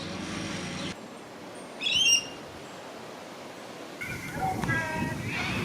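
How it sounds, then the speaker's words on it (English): Corellas calling outdoors, brief harsh squawks at mid-distance over steady background ambience, with a few chirps near the end. "These noisy birds are called corellas."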